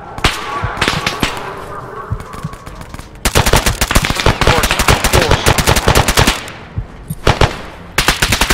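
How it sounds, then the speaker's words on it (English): Loud video-game gunfire erupts in rapid machine-gun bursts, with a short pause before a long, dense stretch of continuous shots and a final burst near the end. "If you see him twitch, shoot him."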